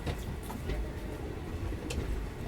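A passenger train runs near Paramakudi junction on the Madurai to Rameswaram line, giving a steady low rumble with faint rattling, heard from inside the carriage at low volume.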